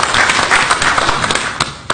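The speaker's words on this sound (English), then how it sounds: "Give them a round of applause" Applause from the room at a city council regular meeting honoring a 27-year achievement, loud and close, with individual hand claps standing out briefly and no talking over it.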